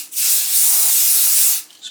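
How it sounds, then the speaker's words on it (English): A continuous spray hiss from an aerosol of Starbond super glue activator being sprayed onto a glued wood repair. It is close and loud, lasts about a second and a half, then cuts off. "when you spray this accelerator on it, it makes it set in 2 to 3 seconds"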